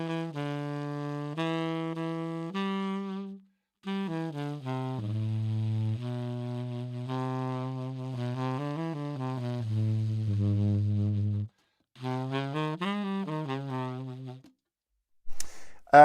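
A saxophone plays a slow phrase of sustained notes in its low register with a warm, fuzzy subtone, close and clear, with short pauses between phrases and no talking.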